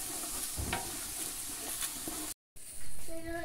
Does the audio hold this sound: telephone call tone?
no